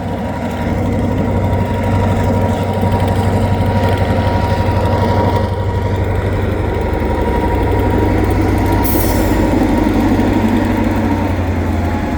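A steady, loud diesel rumble with a constant low hum from EMD locomotives on a Canadian Pacific Kansas City local freight train at Dorval, idling or moving slowly nearby in winter, with no talking.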